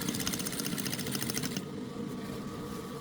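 A sewing machine stitches the turned-in half-inch hem of a kimono jacket, its needle running in a fast, steady mechanical chatter that stops about halfway through, leaving a low hum.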